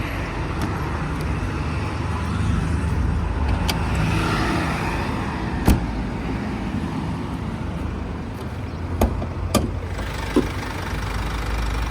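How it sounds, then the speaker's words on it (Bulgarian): A Mercedes C250 AMG engine idles steadily and evenly, a loud continuous running hum with a few brief clicks and ticks on top and no one talking. "Перфектно работещ двигател"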